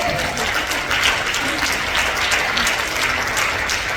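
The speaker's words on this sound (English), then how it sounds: "Give yourselves a round of applause." An audience applauds in a dense, steady wash of clapping that lasts the whole time, with voices mixed in under it.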